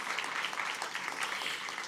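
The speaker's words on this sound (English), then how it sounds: "Can we have a huge round of applause to him, please?" A hall audience at a felicitation ceremony for a classical dancer claps in a steady, dense round of applause that holds at an even level throughout, with no voices rising above it.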